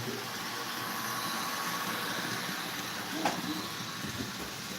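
Model trains rumble steadily along the track with a soft hiss, a low continuous running sound and one small clack partway through.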